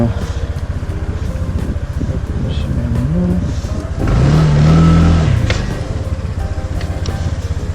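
A Honda PCX125 scooter rides through city streets, its engine hum steady and close, swelling midway as the rider speeds up before settling again, with wind buffeting throughout and a voice speaking over it.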